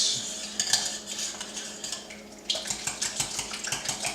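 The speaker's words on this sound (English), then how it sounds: "I'm just mixing the spices into the eggs, and I'm breaking up the yolks" Eggs being whisked with spices in a bowl, a utensil clicking and scraping against the dish in quick repeated strokes, close and clear, with a denser, more rhythmic burst of beating near the end.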